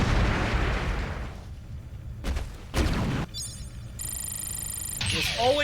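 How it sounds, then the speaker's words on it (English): A grenade finisher from the video game Kamen Rider Memory of Heroez detonates as a heavy rumbling blast, followed by short bursts, a pause, a bright electronic tone and a final crackling pop. "Joker grenade."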